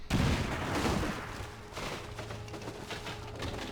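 A grenade explosion in the video game XCOM 2, a loud, heavy boom at the start that rolls into rumbling debris and crackling, fading over a few seconds with scattered smaller impacts.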